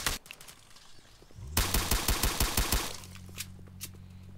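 Rapid automatic gunfire from a video game, a tight burst of about eight sharp shots followed by a lower mechanical hum and a couple of isolated pops, fairly quiet and without talk.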